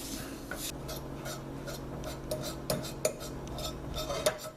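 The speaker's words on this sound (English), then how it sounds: "What I'm doing with this fork is I'm pulling all the fibers apart." A fork scrapes and clinks in a pan over low heat as cooked chicken is pulled apart into fibers, a steady soft scraping with a few sharp metallic taps near the end.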